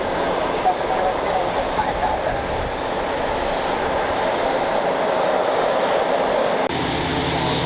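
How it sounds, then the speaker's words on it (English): A Frontier Airlines jet takes off at Cleveland, a continuous loud engine roar holding steady throughout, with faint background voices under the noise. "Got a Frontier taking off."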